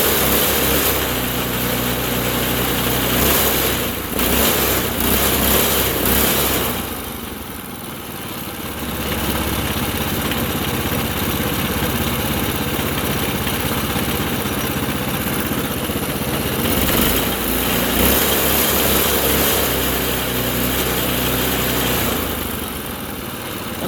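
A Honda GX200 small engine on a mini go-kart runs loud and close, its steady buzzing drone dipping briefly around a third of the way through before surging back to full, continuous power.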